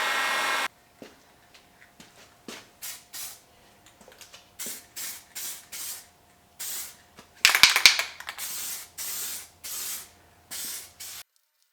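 Spray paint hisses on BMW E30 parts in a light coat, heard as a long opening burst followed by many short, evenly spaced spurts of close, loud hissing with silent gaps between.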